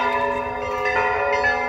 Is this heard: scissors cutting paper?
no